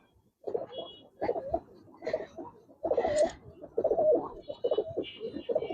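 Giribaz silver and coloring pigeons coo repeatedly in a soft, throaty, rolling rhythm, several birds close by with overlapping calls throughout.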